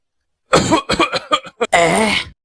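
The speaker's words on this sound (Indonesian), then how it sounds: "Tetangga kita itu batuk." A person coughs in a rapid series of harsh bursts, then clears the throat with one longer rasping cough, close and loud against a quiet background.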